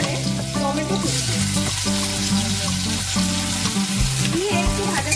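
Chopped tomato with cumin seeds, ginger and green chilli sizzles steadily in a pan for a vegetarian dish, a continuous frying hiss under tonal background music.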